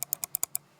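An old Logitech mouse button clicks six times in a quick, fairly even run of sharp, close clicks, followed by near silence.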